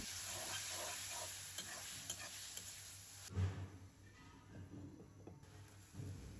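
Onion and soaked spice paste frying with tomato and green chili in a pan for a small-fish curry, a soft steady sizzle broken by a few stirring scrapes and one louder clatter.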